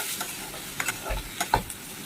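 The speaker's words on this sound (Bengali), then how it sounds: "আবার ঢাকাটা খুলে একটু নাড়িয়ে নেবো" Chicken chowmein being stirred in a pan with a utensil, a few short scraping strokes over a soft sizzle, close and fairly quiet, no voices.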